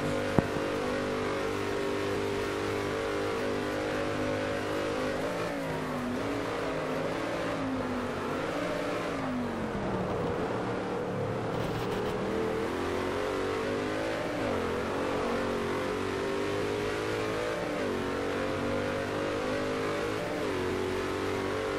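A De Tomaso Pantera in the racing game GT Legends, at the Sachsenring circuit, revs steadily in neutral with a droning engine note that dips and climbs in pitch, continuous and prominent throughout.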